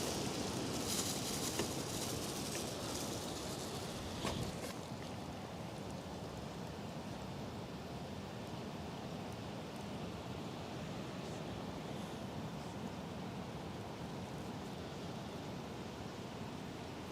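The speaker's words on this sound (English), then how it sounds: "Oh boy, here comes a big gust of wind." A broad, steady rush of outdoor wind with a stronger gust swelling early on, then easing to a constant hiss, faint and alone without talk.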